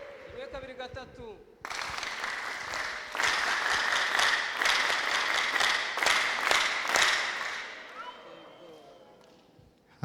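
A church congregation breaks into sustained applause that lasts several seconds, dense and fairly loud, then tapers off. A voice is heard briefly before it starts.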